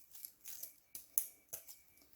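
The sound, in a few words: scissors cutting paper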